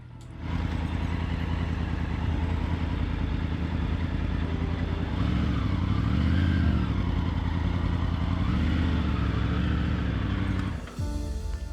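Triumph Tiger 900 adventure motorcycle ridden through the Victorian High Country, its engine droning steadily and close, rising in pitch midway, then briefly dropping off near the end before picking up again.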